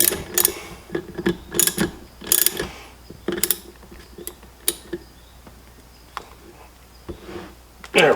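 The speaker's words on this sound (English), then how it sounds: "and then your bolt. Let's tighten that up again." A ratchet wrench tightens a bolt with a lock washer while a 12V synthetic rope winch is fitted, quick bursts of close clicking in short strokes, then sparse single clicks.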